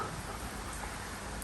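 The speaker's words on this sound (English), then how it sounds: "as you can see, it started raining quite heavy" Heavy rain falls steadily as a dense, continuous hiss of drops on surfaces, loud and unbroken throughout with no voices.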